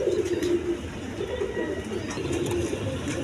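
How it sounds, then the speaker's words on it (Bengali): A pigeon coos close by in a steady, low, repeated call over faint background noise. "খুব সুন্দর কবুতর"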